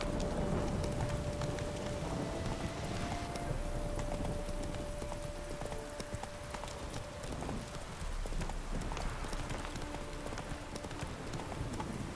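Roach the horse galloping across terrain in The Witcher 3, a steady, continuous clip-clop of hooves running throughout, close and prominent over a faint background music tone.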